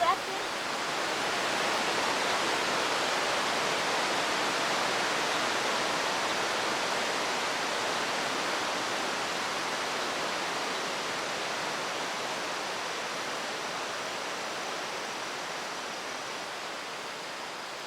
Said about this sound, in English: Jose, you just told me that if we come to this waterfall in spring Or in winter